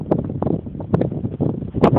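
Strong wind gusts buffet the microphone outdoors where a Parkzone F4F model plane is flown, rushing and rumbling in uneven bursts with a few sharper peaks, loud and close with no talking.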